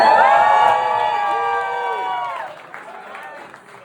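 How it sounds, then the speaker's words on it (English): Wedding guests cheer for the bride, a loud burst of whoops and voices at the start that holds briefly, then thins out and fades into scattered murmuring. "Another big cheer for how beautiful Katie looks to bride today."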